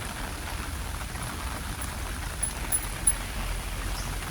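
Steady rain falling outdoors on a rainy day in Hong Kong, a soft even hiss of drops on surfaces with a few slightly louder patters near the end.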